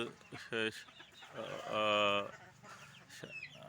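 Spotted native country hens cluck and squawk in short bursts close by, with one longer drawn-out call in the middle; faint voices murmur in the background.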